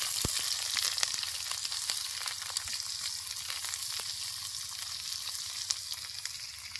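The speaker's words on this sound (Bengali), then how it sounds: "আমরা কুচিয়ে রাখা পেঁয়াজটাও দিয়ে দেবো তেলের মধ্যে।" Chopped onions frying in hot oil in a pan, a steady close sizzle with occasional crackles and pops, alone without talk.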